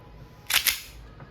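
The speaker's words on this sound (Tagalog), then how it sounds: "1911 Classic Silver gas blowback airsoft pistol made in Taiwan." A WE 1911 Classic Silver gas blowback airsoft pistol made in Taiwan fires, giving two sharp, close cracks with a metallic slide snap in quick succession, then a faint click, over low room noise.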